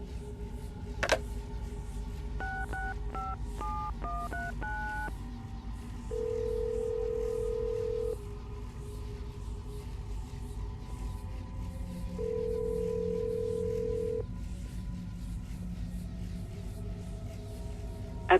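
Phone tones in Assassin's Creed Brotherhood: a short burst of stepped dialing beeps, then two long steady tones with a gap between them, over a low hum, with no voice.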